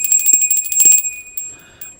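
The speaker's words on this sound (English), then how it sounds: "So I'm going to ring the bell." A small bell rung to cleanse the space before a live tarot reading gives a bright, sustained metallic ring with steady overtones. A few softer taps fall early in the two seconds, and the ring fades toward the end.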